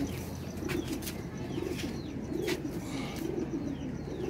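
Pigeons, kept flying breeds, coo softly and steadily near the listener, with a few brief bursts of wing flapping and faint chirps mixed in. No one speaks.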